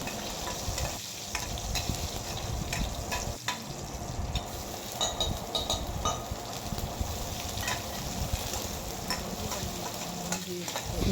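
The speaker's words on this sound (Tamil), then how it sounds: "வரமிளகாய் போட்டுட்டு கருவேப்பிலை போட்டுட்டு வெங்காயம் எல்லாத்தையும் சேர்த்து நல்லா வதக்கி விடுங்க" Dried red chilies, curry leaves and onions sautéing in oil, a dense, close crackling sizzle with frequent spatula scrapes and knocks against the pan throughout.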